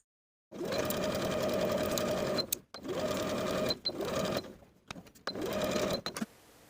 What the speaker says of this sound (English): Sew the princess seam with a 3/8 inch seam allowance.